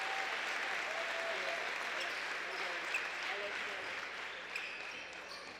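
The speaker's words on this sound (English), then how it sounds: "getting a standing ovation from the Springboro crowd" Sustained applause from a Springboro Panthers home crowd giving senior basketball players a standing ovation during a regional semi-final high school game, a steady wash of clapping with faint crowd voices and an occasional ball bounce.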